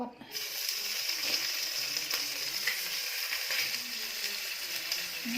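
Stuffed beef rolls fry in hot oil with a steady, even sizzle throughout, close by and moderately loud, with no talking.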